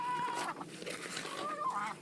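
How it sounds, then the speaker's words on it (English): Backyard hens cluck and squawk nearby, fed soft apples and scraps, a few short calls rising over faint rustling without any talk. "They sure are nice chickens, but they're sure awful mean to each other."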